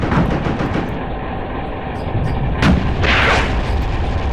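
Gunfire in a World War II desert battle video game: a loud, close shot bursts out around the middle and is followed by a longer blast, all over constant rumbling battle noise.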